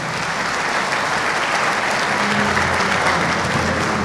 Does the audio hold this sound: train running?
no